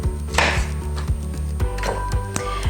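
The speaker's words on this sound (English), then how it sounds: "Next, we take our plantains, and I'm going to show you how to cut these. So first things first, you're going to cut off the tips." A knife chops through plantain tips on a cutting board, sharp close thuds repeating in a quick, fairly even rhythm, roughly ten cuts with no talking.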